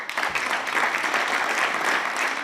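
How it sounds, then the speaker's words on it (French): Sustained, dense applause fills an assembly chamber at the Fédération Wallonie-Bruxelles parliament during a minister's swearing-in, an even wash of clapping hands without speech. "Les applaudissements des uns sont d'ailleurs boudés par l'opposition PTB."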